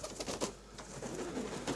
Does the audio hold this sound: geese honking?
no